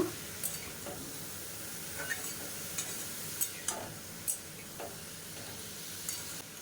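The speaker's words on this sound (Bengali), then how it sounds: "এবার চাল কুমড়োগুলোকে আমি ভালো করে নেড়েচেড়ে দিচ্ছি।" Ash gourd pieces frying in a pan are stirred over a steady sizzle, with light spatula scrapes and taps at irregular intervals, with no talk.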